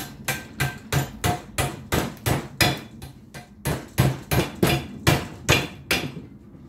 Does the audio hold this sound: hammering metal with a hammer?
yes